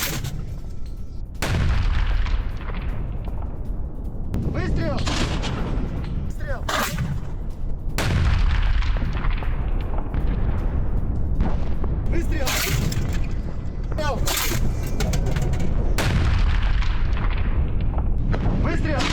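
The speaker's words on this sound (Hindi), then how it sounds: "रोबोटाइन में रूसी सेना के मोर्टार हमले, हाई एक्सप्लोसिव शेल से रूस की गोलाबारी" Russian mortar and high-explosive artillery shelling, heard as a series of heavy booms and blasts, some sharp and close, over a constant rumbling background, with repeated impacts at irregular intervals.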